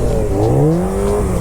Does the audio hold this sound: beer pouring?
no